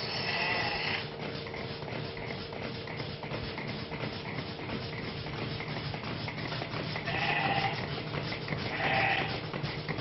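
Sheep bleat at a milking near Corte in Corsica, a few loud bleats rising over a steady background of shuffling and farm noise, with no talking.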